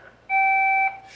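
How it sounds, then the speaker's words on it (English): A single answering machine beep, a steady electronic tone lasting about half a second, sounds clearly and alone after a brief pause. "Leave a message after the beep."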